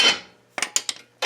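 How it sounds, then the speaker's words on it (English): A hammer taps at a worn ball joint on a 1998 Subaru Outback, giving a ringing metallic strike followed by a quick run of three sharp blows and the start of another, close and loud. "So a bit of hammer work, tighten up the castle nut a bit, hammer it out of there."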